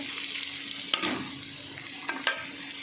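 Yardlong beans sizzle steadily as they fry in a pan, a close continuous hiss broken by a couple of sharp scrapes of a spatula stirring them.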